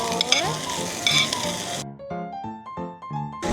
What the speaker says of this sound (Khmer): បន្ទាប់ពីយើងឆាបន្លែឲ្យមានភាពទន់ល្មើយហើយយើងនឹងដាក់សាច់គោចូលតាមក្រោយ